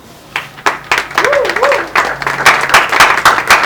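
An audience at a public gathering in Équateur claps in a building, uneven applause that swells and continues while a voice speaks over it.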